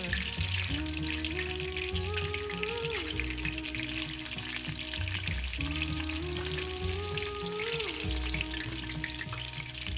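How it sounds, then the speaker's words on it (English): Spring rolls fry in oil, sizzling and crackling steadily in a continuous hiss with music playing over it throughout. "make sure to drop the spring rolls away from you so you don't accidentally burn yourself on the oil"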